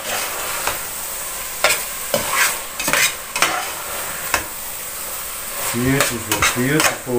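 Chopped fresh basil roasts in a frying pan with a steady sizzle, punctuated by sharp spoon scrapes and taps; a voice speaks briefly near the end.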